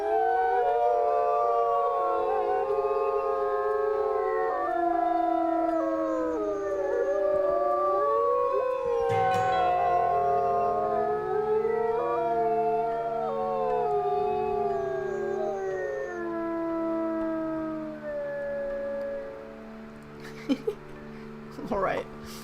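Several wolves howl together in the wolf simulation game Ironwolf, long wavering overlapping calls rising and falling for about twenty seconds before fading, with a few clicks at the end.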